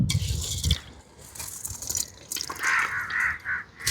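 Washed, soaked rice goes into a pot of crab biryani, giving quiet wet patters, drips and scrapes in short, uneven bursts.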